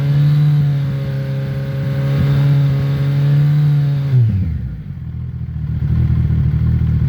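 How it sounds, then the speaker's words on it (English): A Kawasaki Ninja 1100SX with a slip-on exhaust holds a loud, steady, buzzing drone around 4500 RPM, then the revs fall away and it settles to a rough idle. "So now I rev it to 4500."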